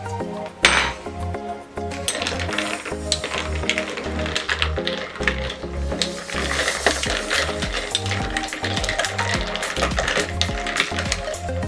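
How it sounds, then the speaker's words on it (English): A spoon stirs a non-alcoholic summer drink in a glass, giving rapid, busy clinking and tapping against the sides over a continuous rattling swirl, close and fairly loud, with no talking. "And then we're going to give that a big stir."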